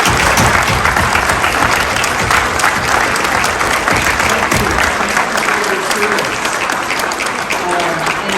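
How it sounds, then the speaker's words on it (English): A large audience at a Veterans Day ceremony applauds military veterans, sustained dense clapping that fills the whole stretch at steady loudness, with faint voices mixed in near the end. "I want to give you all a round of applause."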